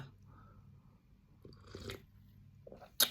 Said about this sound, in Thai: วันนี้จะพามากินต้มยำไข่ปลาอีกแล้วนะจ๊ะ